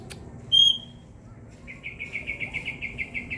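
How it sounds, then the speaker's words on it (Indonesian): A myna bird calls outdoors in the late afternoon, a single sharp whistled note followed by a fast, even series of repeated chirps, fairly close over a quiet background. "malah jalak suara yang bunyi"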